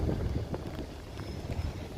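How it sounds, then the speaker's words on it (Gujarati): Cold wind blowing outdoors on a rainy day by shops in Canada, buffeting the microphone as a low, rumbling, gusty roar with no talking. "અને એકદમ ઠંડો પવન આવે છે."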